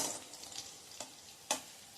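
Green chillies fry in hot tempering oil for a chutney made from ridge gourd peel, with a soft continuous sizzle broken by a few sharp spitting pops.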